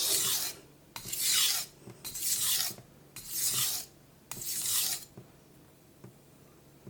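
A chipped knife is sharpened on a Naniwa whetstone in five steady, evenly spaced rasping strokes, each scraping up close and clear before a quiet pause at the end.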